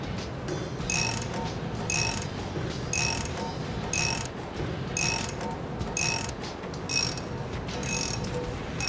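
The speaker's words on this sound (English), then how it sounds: "you want to do all your ratcheting from the nut side" A ratchet wrench clicks in quick, regular bursts about once a second while knife bolts are loosened from the nut side on a Bandit disc-style wood chipper, fairly quiet and close with no talking.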